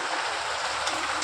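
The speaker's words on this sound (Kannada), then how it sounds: "ತುಂಬ ಮಳೆ ಬರ್ತಾ ಉಂಟು ಹೊರಗಡೆ" Heavy rain pouring outside, heard from indoors as a dense, steady hiss filling the background, unbroken and fairly loud, no speech.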